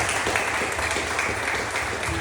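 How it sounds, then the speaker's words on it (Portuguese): A church congregation applauds loudly and steadily, a dense wash of many hands clapping without pause throughout. "Aplauso bem forte para Deus."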